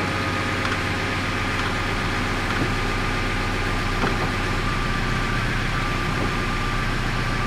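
A GAZelle van engine idles steadily just after starting, a constant low rumble with no talking.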